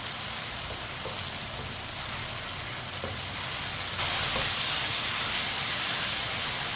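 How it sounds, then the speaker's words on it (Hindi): Ridge gourd (tori) frying in a pan while a spoon stirs it, a steady loud sizzle and hiss that swells louder partway through, with faint scraping of the spoon, no voices. "तोरी को भी इसी तरह चम्मच चलाते हुए फ्राई कर लेना।"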